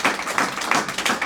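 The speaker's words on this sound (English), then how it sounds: "Let's give a big round of applause for this." Audience applause after a Q&A session with Jayadvaita Swami, a brief burst of many hands clapping with a few louder individual claps recurring in a loose rhythm.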